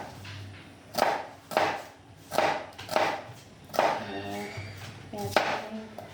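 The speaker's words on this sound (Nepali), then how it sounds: "म चाहिँ अहिले प्याज काट्दैछु।" A knife chops onions on a board in a steady series of about seven sharp, close knocks, evenly spaced around half a second apart, with faint background hum between strokes.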